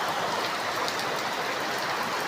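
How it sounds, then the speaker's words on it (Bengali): Rain falls steadily during a long spell of wet weather, a dense, even hiss of drops with no break, fairly loud and close, no voices. "আমাদের এখানে আজ 10-12 দিন ধরে বৃষ্টি ছাড়ছে না"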